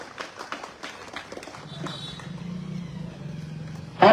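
An audience at a youth marathon event in Barmer applauding: steady, moderately distant clapping builds and carries through the clip, with a louder burst at the very end.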